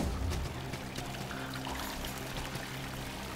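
Water flowing and pouring in the video game Salt and Sanctuary, a steady rushing stream that starts a little louder and then holds an even, continuous level on its own.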